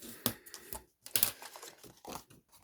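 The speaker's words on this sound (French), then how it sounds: "Donc, on va plier en accordéon." Paper being folded accordion-style for a place card gives sharp crisp creases and rustles in uneven bursts, separated by short silent gaps.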